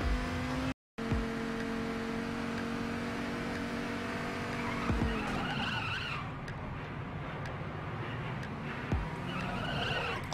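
A stolen car in the OVERKILL video game drives with a steady engine hum while its tires squeal and skid in long, continuous screeches. A brief dropout near the start interrupts the sound.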